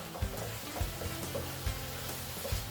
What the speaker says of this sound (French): on entend la friture des piments et des oignons